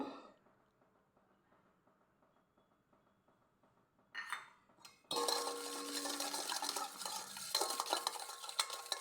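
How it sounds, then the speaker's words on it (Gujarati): Dry rusk ingredients are mixed with oil in a bowl. Quiet faint scraping is followed by a brief clatter, and then a loud, steady, gritty stirring rasp dominates the close-up with no talking. "સરખું મિક્સ કરી લેશું બધું મિક્સ થઈ ગયું છે ડ્રાય બધું મિક્સ કરી લેશું"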